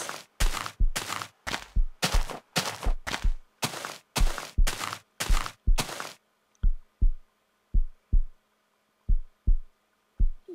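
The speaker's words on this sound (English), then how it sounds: "I can just hear the thump, thump, thump, thump of the heartbeat" Heartbeat thumping in the video game Ghost Miner: a steady stream of paired, low, muffled thumps, loud and rapid at first, then quieter and spaced out in a slower double-beat rhythm, with no talking.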